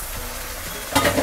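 Rajma masala with tomato is stirred in a hot pan, a short burst of sizzling and scraping that swells louder near the end.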